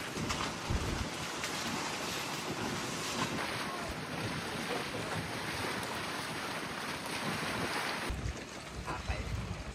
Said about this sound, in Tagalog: So hinila na tayo ng isang bangka.